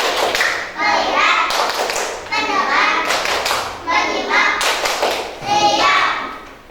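Classroom of children clapping in rhythm during a counting clap game in an elementary lesson, with sharp claps in short grouped bursts mixed with loud chanting voices throughout.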